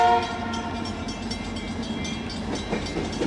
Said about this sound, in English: EMD demonstrator SD70M 7014 leads the Brooklyn trailers through Stockton on the Fresno sub.